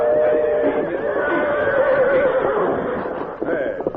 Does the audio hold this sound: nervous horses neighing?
yes